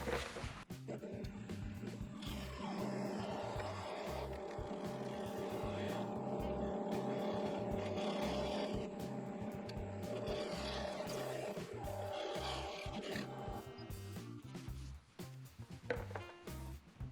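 A wood lathe spins a glued segmented wooden vessel at 500 RPM, giving a loud, steady motor drone with a pulsing whir that holds for most of the stretch before slowing and fading near the end.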